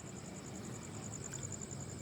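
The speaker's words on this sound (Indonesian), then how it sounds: "Jangkrik ya, terdengar suara alam." Crickets chirp in a steady high-pitched trill over a quiet outdoor background at a cemetery in Palembang, faint and continuous throughout.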